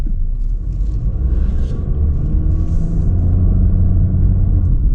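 A 2026 Honda HR-V LX with all-wheel drive and a CVT pulls away from a stop, its steady low engine rumble and road drone continuing evenly at close range with no talk over it.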